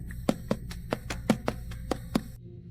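Saxophone plays a quick run of short, separated notes in a D-based scale pattern exercise, about ten evenly spaced tongued attacks, close and alone, ending in silence.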